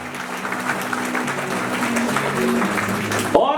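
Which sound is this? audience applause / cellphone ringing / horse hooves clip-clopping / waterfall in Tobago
audience applause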